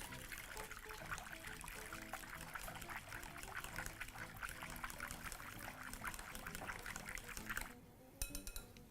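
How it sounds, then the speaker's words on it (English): Milk poured into a bowl, then seasoned with salt and crushed black peppercorns and whisked, giving a continuous close liquid trickle and rapid whisking patter that stops near the end. "proceed to add some milk into a bowl, season with some salt, crush in some black peppercorns, and proceed to whisk that together"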